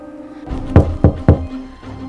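Three firm knocks on a wooden house door in a Three Little Pigs story, evenly spaced and close, over a faint low background hum.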